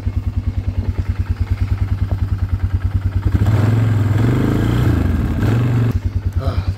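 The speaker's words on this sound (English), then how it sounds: "The four-wheeler has some trouble with reverse" An ATV four-wheeler engine chugs in a fast steady rhythm close by, then revs up and holds a higher, rougher roar for a few seconds before settling back, loud and alone.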